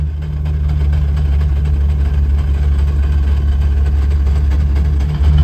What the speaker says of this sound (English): I'm having mad noises coming from the gearbox